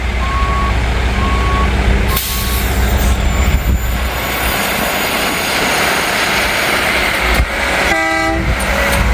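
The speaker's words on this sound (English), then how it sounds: "I got Rail Works backing up here." A rail works truck reverses near CSX track work, its steady backup beeper repeating over a loud, continuous engine drone, with a burst of sharper beeping near the end.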